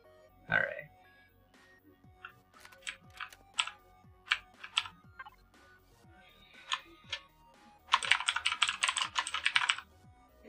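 A computer keyboard is typed on in short bursts of close, crisp clicks, with an uneven rhythm, a quick flurry of rapid keystrokes near the end, and a brief throaty vocal sound at the start.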